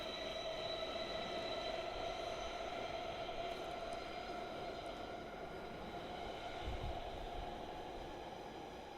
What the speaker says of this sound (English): We'll let the train pass.